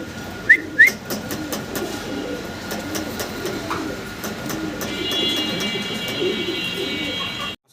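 Breeding pairs of fancy pigeons in a loft give soft, low cooing under a steady background hum. A couple of brief whistle-like chirps come early on, and a thin sustained tone runs through the latter half.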